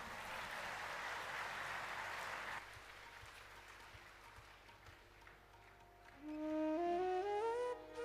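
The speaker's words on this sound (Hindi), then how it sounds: "एक बार बजाइए ताली इस पर।" Audience applause at a live Ram Katha religious discourse, a broad wash of clapping for about two and a half seconds that fades into softer crowd noise before music rises.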